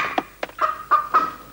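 Chicken clucking in a 1984 Chicken Oxo television advert, a run of five or six short, close, throaty clucks in an uneven rhythm with no voices over them.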